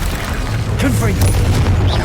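Confringo fire blast spell exploding in Hogwarts Legacy on PS5, loud booming blasts over dense battle noise with a rumbling low end and sharp bursts, while voices shout during combat.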